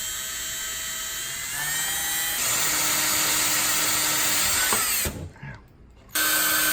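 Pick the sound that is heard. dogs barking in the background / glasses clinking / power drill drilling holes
power drill drilling holes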